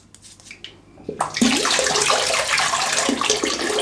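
Tap water runs steadily while a razor is rinsed clean after a wet shave, starting after a quiet moment of small handling noises and then rushing loud and continuous, with splashing shifts as the blade moves under the stream.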